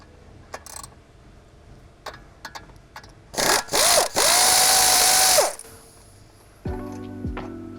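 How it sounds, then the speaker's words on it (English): A power tool loosens E14 Torx bolts on the upper control arm of a 2014–2017 Mercedes-Benz S550 during a front suspension job: a few short clicks, then two bursts and a long loud whirring run, followed by lower mechanical whine and ratcheting. "Next, remove the upper control arm. The bolts is actually an E14 Torx head."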